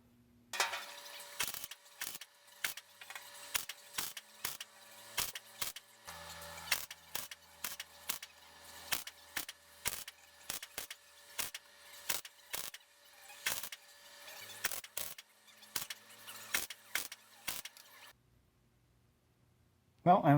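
A welder tacks a patch panel into a Frogeye Sprite seat frame. Short crackling bursts repeat in an uneven rhythm for about eighteen seconds, close and moderately loud, with a low hum under them.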